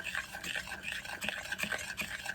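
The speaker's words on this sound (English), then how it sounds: "by the time I finish stirring, everything is melted" Microwave-melted chocolate stirred steadily in a bowl to temper it, giving a close, continuous soft scraping with a quick, even rhythm and no voices.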